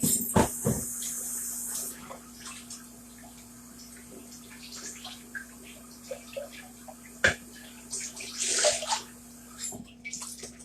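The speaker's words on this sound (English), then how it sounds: "I'm going to rinse this jar out real quick." Tap water runs and splashes while a glass pint jar is rinsed out in a home kitchen, a steady close hiss with clinks and bursts of spray, no talking.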